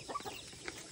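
Chickens on a farm cluck in short, scattered calls over about a second, fairly faint and close, with no talk.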